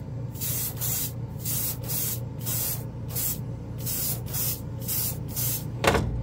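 An airbrush sprays a final coat of Vallejo Game Air paint in short repeated hissing bursts, about a dozen evenly spaced pulses close up, with a sharper click near the end.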